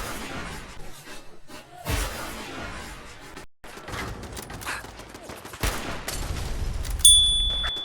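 Weapon fire in Fallout 4 comes as several loud, sharp bursts, including one heavy blast in the middle, with rumbling noise between them and no talking.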